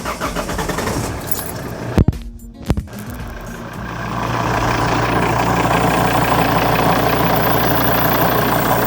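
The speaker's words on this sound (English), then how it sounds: "And then it was back to me trying to start the car." A Volvo V70 starts after its AC pump was replaced: keys rattle, the starter cranks briefly, then the engine catches and settles into a steady, close idle.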